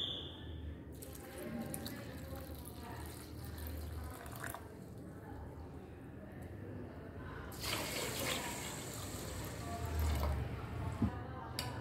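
Water pouring from a tap over washed rice in a bowl to soak it for idli batter, a steady splashing flow that grows fuller toward the end, quiet and close, with faint speech in the background.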